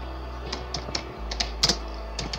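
Computer keyboard typing while entering details into an online name reservation form for an NGO, a handful of light, irregular key clicks close by with short pauses between strokes, no voices.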